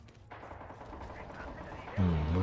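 Enemy machine gun fire in Red Orchestra 2 rattles in bursts across a World War II battlefield, mixed with distant gunfire and a louder burst near the end, while voices talk over it.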